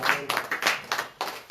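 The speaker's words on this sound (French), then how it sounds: "Est-ce qu'on peut applaudir le Seigneur?" A church congregation at a Sunday service claps in a loose rhythm, a run of fairly close, sharp claps arriving about every quarter second and then stopping.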